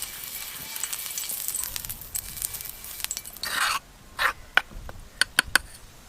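White oil sizzles on a hot griddle for paneer tikka, a steady frying hiss that drops away partway through, followed by a few sharp crackles and pops.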